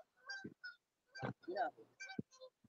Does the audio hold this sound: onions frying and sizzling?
no